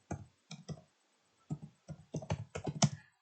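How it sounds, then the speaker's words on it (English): Keys on a computer keyboard are tapped close up in short, irregular bursts as a title is typed, with brief pauses between clusters of clicks. "I will just type the title."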